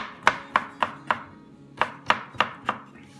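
A knife chops a cucumber on a cutting board in two quick bursts of sharp, evenly spaced strikes, close and clear with a short pause between.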